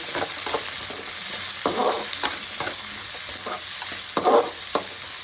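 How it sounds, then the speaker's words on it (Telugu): Onion and curry leaves fry with cumin in oil, giving a constant sizzling hiss broken by repeated scraping stirs and occasional louder bursts. "ఆనియన్, కరివేపాకు వేసేసుకుంటాము. ఇది బాగా ఫ్రై చేసుకుంటాము."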